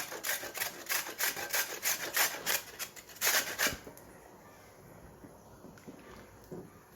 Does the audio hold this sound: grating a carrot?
yes